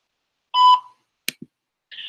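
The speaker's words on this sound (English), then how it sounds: "At the tone, please record your message." A voicemail greeting ends in a clear electronic beep tone, then a couple of short clicks, and a second tone follows.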